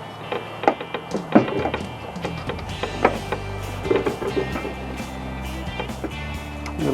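Tools scraping and clunking against the alternator of a 1987 Honda CRX as it is pried off, a string of uneven knocks and metallic scrapes close up over a low background hum.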